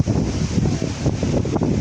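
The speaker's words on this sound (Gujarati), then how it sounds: "તમે જોઈ શકો છો કેટલો પવન છે આજ તો" Strong wind blows outdoors at night, a steady loud roar and buffeting across the microphone with no break.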